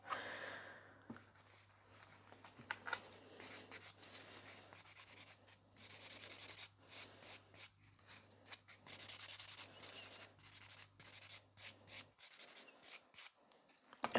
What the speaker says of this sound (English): I'm trying to use the smoothest side of the buffer